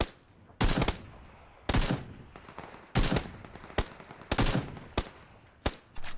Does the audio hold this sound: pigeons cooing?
no